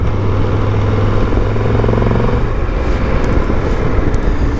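Triumph Tiger 1200 Rally Explorer motorcycle engine pulling in sixth gear, a loud steady droning hum that gives way to rushing wind noise as speed builds.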